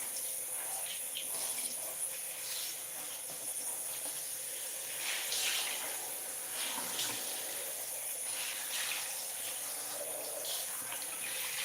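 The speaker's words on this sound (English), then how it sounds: "I'm gonna rinse this out." Water runs from a tap while something is rinsed out, a steady hissing flow with slight splashing changes, fairly faint and continuous throughout.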